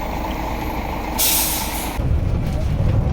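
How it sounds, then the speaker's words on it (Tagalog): A Bicol Isarog passenger bus pulls in and releases a loud, sharp hiss from its air brakes, followed by the low rumble of its heavy engine idling nearby. "Ay parating pang isang bus mga lods. Bicol Isarog to,"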